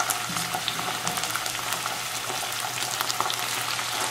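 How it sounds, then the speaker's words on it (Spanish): Beans fry in a pan with onion and a chile, making a loud, even, crackling sizzle that runs unbroken from start to finish, close up and with no talking. "Ahí los dejo que se frían por unos 5 minutos"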